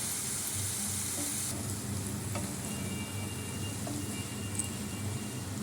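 Curry being fried and stirred in a pan, with a steady close sizzle throughout and occasional scrapes and clinks of a spoon against the metal.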